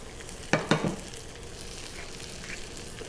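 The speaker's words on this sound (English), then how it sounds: "I'm going to add the rosemary to the pan." Rosemary hits a hot pan with the heat just switched off, giving two quick, bright crackles followed by a soft, steady sizzle.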